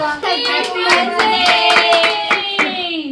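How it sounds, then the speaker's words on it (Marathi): A child's hands clapping repeatedly at a home birthday and Holi party, steady claps under singing voices and tonal music. "टाळ्या वाजव पिलू, टाळ्या वाजव."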